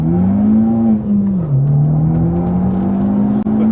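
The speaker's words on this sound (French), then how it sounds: "Bah là, tu vas accélérer." Fiat Punto Abarth engine revving hard under acceleration, a loud steady drone that dips briefly, then climbs and holds, with a cabin-filling rumble close up inside the car.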